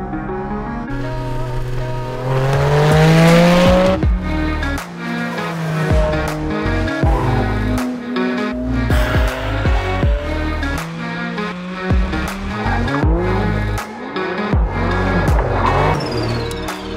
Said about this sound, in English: This is the brand new Porsche Cayman GT4 RS.